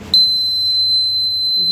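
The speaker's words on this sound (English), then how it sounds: "This is the alarm for overheating." Car engine overheating warning alarm sounding a steady, continuous high-pitched electronic tone, loud and close, starting abruptly and holding without a break.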